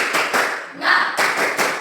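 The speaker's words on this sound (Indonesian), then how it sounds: "kami tetap tepuk semangat untuk si Jesli." A classroom of students claps in rhythmic bursts of encouragement for a classmate, several quick patterned rounds of hand claps close by with a brief pause in the middle.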